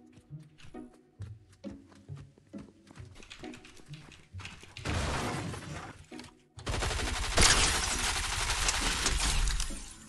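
Fortnite gunshots: scattered sharp single shots and clattering impacts at first, building into sustained dense bursts of rapid fire that grow louder and fill the last half.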